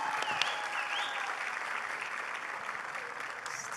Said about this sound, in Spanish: un aplauso para Ángela